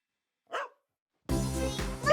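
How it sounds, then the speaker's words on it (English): Grandma's dog Mossy gives a single short bark, followed by a pause and then music with voices. "We're looking after Grandma's dog."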